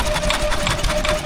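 A hit-and-miss stationary engine runs at a country show, giving a rapid rhythmic chugging and clattering close by, loud and continuous for a brief stretch.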